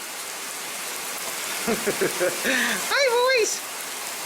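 Steady rain pours during a storm near horses, a dense, even hiss throughout, with someone briefly speaking over it.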